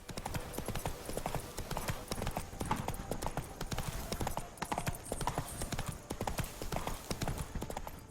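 Horse hooves clip-clop steadily at a brisk gallop in the video game The Witcher 3, a dense, continuous rhythm of close, loud footfalls throughout.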